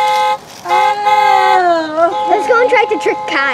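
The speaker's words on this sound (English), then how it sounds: "We're trying to make them think a car is honking." A toy prank box plays a car horn toot, a sustained tonal honk with several strong sustained tones, followed by children talking over and between further horn bursts.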